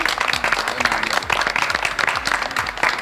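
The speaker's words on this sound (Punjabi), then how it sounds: "ਇਸ ਭਾਈ ਵਾਸਤੇ ਯਾਰ ਤਾੜੀਆਂ ਲਾਉਣੀਆਂ ਜ਼ਰਾ।" A crowd at an Eid road show claps for a man, brisk scattered applause close by for a few seconds with a voice faintly mixed in.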